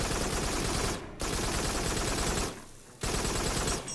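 Rapid, dense gunfire from enemies in the VR shooter Farpoint, loud and sustained with two brief gaps, no talk over it.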